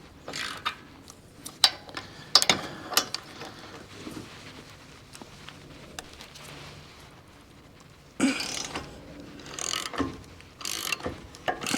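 Ratchet with a 21 mm socket working loose the front brake caliper bolts on a 2024 Ford F150 4x4 5.0, giving bursts of clicking and metallic clatter, close, with pauses and handling noise between.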